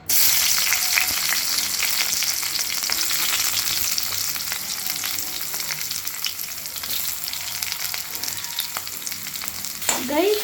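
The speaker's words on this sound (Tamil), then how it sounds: "இப்போ நம்ம கட் பண்ண வெஜிடபிள்ஸ்லாம் அப்படியே போட்டுடலாம் கைஸ்." Cut vegetables deep-fry in hot oil in a pan with a loud, continuous sizzle. Small clicks of stirring sound throughout, close up and without speech.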